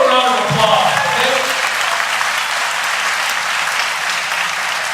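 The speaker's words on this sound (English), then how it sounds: "give a round of applause" Sustained applause from a crowd at a live gala event, steady and fairly loud for the whole stretch, with some talking and cheering mixed into the noise.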